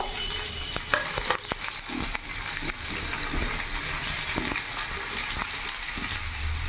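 Three large onions sizzling as they shallow-fry in hot oil with a continuous crackle and occasional scraping stirs from a utensil, near and steady.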